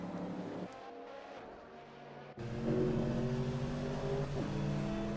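Racing-game safety car engine in a Super Formula series race at Barcelona, a steady loud engine drone with shifting tones, rising in intensity partway through with sustained revving.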